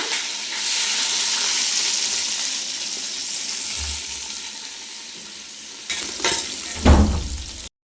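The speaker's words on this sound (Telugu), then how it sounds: "ఉల్లిపాయలు పచ్చిమిరపాయలు వేస్తున్నా" Onions and green chillies hitting hot oil for chicken dum biryani, a dense bright sizzle that slowly settles, then a few louder stirring knocks near the end, close by with no voices.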